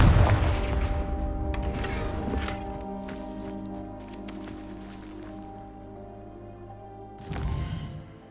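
A Confringo fire-blast spell goes off in Hogwarts Legacy: a sharp explosive burst at the start that fades into a ringing, humming tail with scattered impacts, then a second blast near the end, moderately quiet overall.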